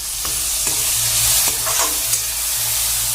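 Tomatoes frying in a pan for egg curry, a steady close sizzle with several scraping stirs of a spoon spaced through it, no talking.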